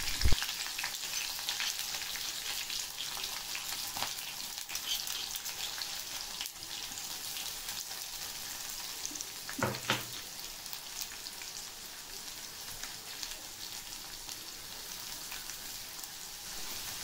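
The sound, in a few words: green chillies and curry leaves frying in hot oil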